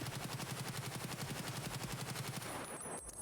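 Rapid automatic gunfire rattles in a steady fast burst from a weapon test in Escape from Tarkov, loud and close, ending abruptly after about two and a half seconds.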